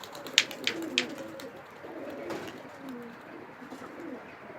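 Homing pigeons cooing softly at a rooftop loft in Basra, low murmuring coos repeating under a few sharp bird chirps and light background noise.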